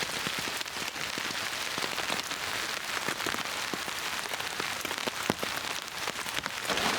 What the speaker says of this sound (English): It's raining quite a lot now.